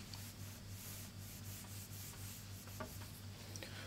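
Someone wipes writing off a classroom board, giving soft continuous rubbing strokes, faint and close, with no talking.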